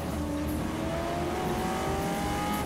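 Racing cars accelerating on a race track, a continuous high engine whine with rising pitch sweeping across, steady and loud throughout with no talk.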